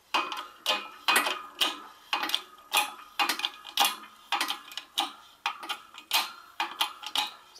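Harbor Freight 12-ton shop press being cranked with a socket: a steady series of sharp metallic ratcheting clicks in rhythmic bursts, close and fairly loud, with no voices.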